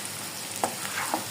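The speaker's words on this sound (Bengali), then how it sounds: "এই যে বন্ধুরা দেখো ভেজে রেখেছিলাম আলু, সেই আলুগুলিকে এখানে দিয়ে দিব।" Fried potatoes tipped into a pan and stirred: a steady broadband sizzle with a few brief scraping clinks of the stirring utensil, close and moderately loud, no voices.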